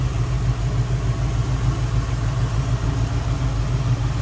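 A 1972 Ford Maverick with a rebuilt 302 V8 at low idle, under an open hood: a steady, deep, throbbing rumble with an even low pulse, close and continuous, with no voices.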